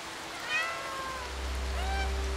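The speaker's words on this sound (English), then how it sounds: "I can meow while drinking" A cat in the video game Stray gives two short, rising meows about a second apart, close and clear over a low, steady background hum.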